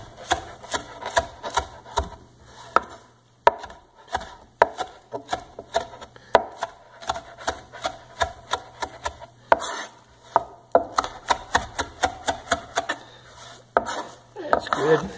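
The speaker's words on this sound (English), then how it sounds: "Same thing, rough chop." A knife rough-chops flat parsley on a board in quick, close, rhythmic knocks with brief pauses between bursts, sounding alone with no voices.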